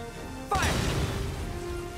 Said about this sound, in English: use tank to blow up Gatling gun